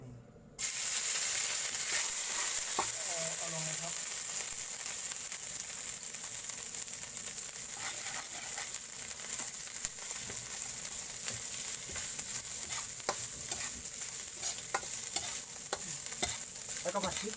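Chicken with red curry paste stir-fried in a pan for a spicy Thai phat phet, a steady close sizzle with scraping stirs and occasional clicks of the utensil throughout, no talking.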